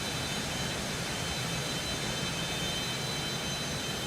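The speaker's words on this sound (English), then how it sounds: "That's reverse thrust." A jet airliner's engines roar in reverse thrust in the X-Plane 12 flight simulator, a steady broadband rushing drone that holds at an even level throughout with no voices.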